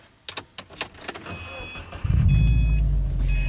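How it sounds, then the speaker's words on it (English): A 2013 Subaru WRX with a dealer-installed SPT aftermarket exhaust starts up after a few clicks and knocks, then settles into a loud, steady, deep idle rumble that carries to the end. "this car has an SPT exhaust system"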